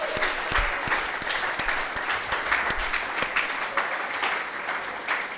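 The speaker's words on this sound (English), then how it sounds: "Round of applause for Jack Harrison." A crowd claps loudly at a football club's end-of-season awards night to honour a nominated player, with dense, sustained applause and a few sharper close claps standing out, carrying on for several seconds.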